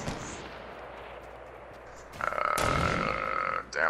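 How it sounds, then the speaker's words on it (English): Gunfire in the game Fortnite, heard as a few faint distant pops over quiet ambience, then a louder burst of firing from about 2.2 seconds with a ringing tone. "They're shooting at somebody."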